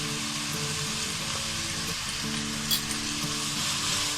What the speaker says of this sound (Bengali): এবার আমি পেঁয়াজটা সোনালি বাদামি করে আগে ভেজে নিচ্ছি।